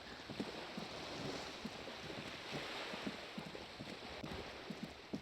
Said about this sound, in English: Let's get away from the very loud waves.